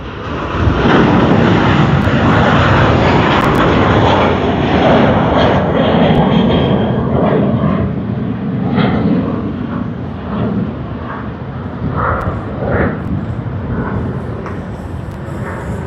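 Jetstar passenger jet at Sydney Airport on Australia Day, a loud, steady broadband engine roar that stays close and constant throughout with no talking.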